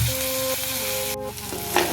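Ginger, garlic, green chilli and onion fry in leftover fish oil in a pan, a steady close sizzle with a brief stirring scrape partway through, no voices.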